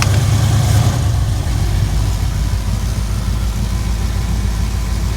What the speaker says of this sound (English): let's idle it down.